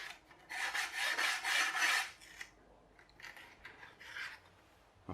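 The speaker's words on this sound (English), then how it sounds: "I need to file down the leading edge and the trailing edge." Close rasping strokes of a file scraping back and forth over the leading and trailing edges of a wooden glider wing, a rhythmic run of rubs followed by a pause and a few more strokes.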